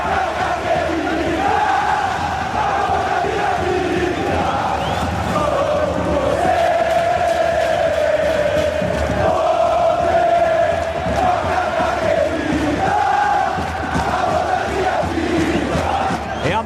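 Stadium crowd of fans at a Cruzeiro versus Ponte Preta football match in Arena Jacaré, a dense continuous roar of chanting and shouting that stays loud and steady throughout.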